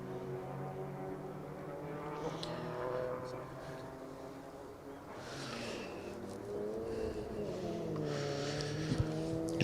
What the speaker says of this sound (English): Just trying to listen over the notes of the Peugeot